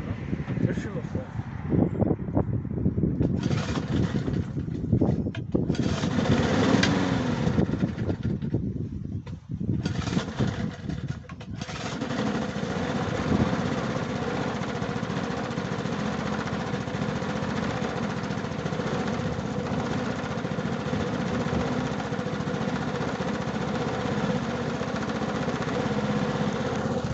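A gas-powered garden tool, a Wolf Echo PB2520 or Stihl FS90, runs roughly nearby with an uneven, sputtering engine sound that settles into a steadier drone, while people talk over it at the start.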